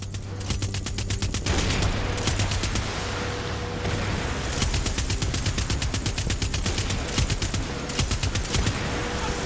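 Rapid bursts of automatic machine-gun fire in the video game Far Cry 6, rattling in repeated volleys with brief gaps between them, fairly loud.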